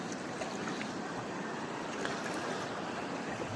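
Steady broadband rushing of a clear stream flowing near a camp in Tanay, fairly faint and continuous, with no voices present.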